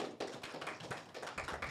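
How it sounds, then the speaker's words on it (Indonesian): A church congregation at a Sunday service in Semarang applauds, the clapping faint and distant, a quick uneven patter of claps throughout. "Beri tepuk tangan dulu saudara"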